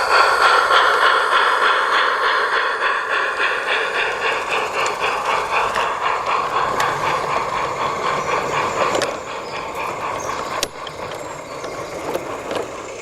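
A model railway mixed train pulls away from Peckforton toward Beeston Castle Station, giving a steady mechanical hum and rolling clatter at moderate loudness, with a few sharp clicks near the end.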